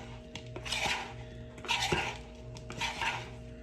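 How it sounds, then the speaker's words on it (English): A spoon scrapes and clinks against a bowl while seasoned food coated in ranch dressing is stirred, giving three close, moderately loud bursts of clatter with steady kitchen hum underneath. "And then I want to stir."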